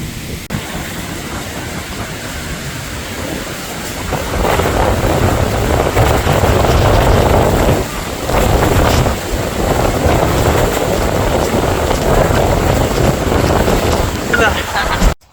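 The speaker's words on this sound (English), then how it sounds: "sometimes it's like actually a waterfall like right now, and sometimes it's just mist" A waterfall in South Iceland roars in a loud, steady, broad rush close by, with gusts of wind and spray buffeting the microphone, and voices faintly under the noise.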